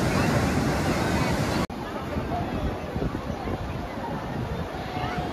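Steady wash of sea waves and wind at Digha beach mixed with a constant murmur of crowd chatter, broadband and fairly loud throughout, with a brief cut early on.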